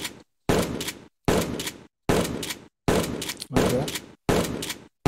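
A Franchi SPAS-12 airsoft shotgun (WOG) fired indoors seven times at a steady, deliberate pace: each shot a loud sharp burst with a short tail, separated by brief silences. A voice speaks briefly at the start.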